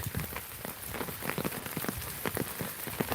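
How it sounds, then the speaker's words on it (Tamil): Heavy rain falls over Tirunelveli in a steady, moderately quiet patter, with individual drops spattering nearby throughout. "இன்னைக்கு மழை விடவே விடாது"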